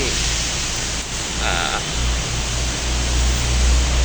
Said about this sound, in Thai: ฝนตกยังหนักเลยหนักมาก